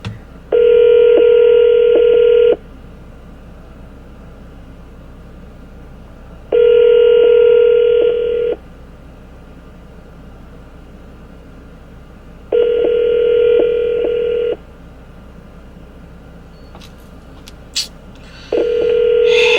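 A phone call being placed: four evenly spaced two-second bursts of steady telephone tones, loud and clear, separated by quiet gaps with faint room noise and no talk.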